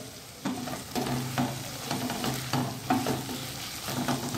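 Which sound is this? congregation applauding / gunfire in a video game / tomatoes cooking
tomatoes cooking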